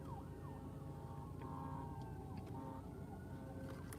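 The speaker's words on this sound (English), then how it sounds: "Sirens." Faint emergency sirens wail outside, rising and falling over a steady low background hum of traffic.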